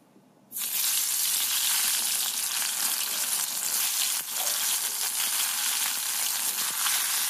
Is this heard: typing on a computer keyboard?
no